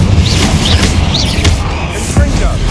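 Booming explosive spell blasts from the Hogwarts Legacy video game, several crashing impacts in quick succession over dense, loud game noise.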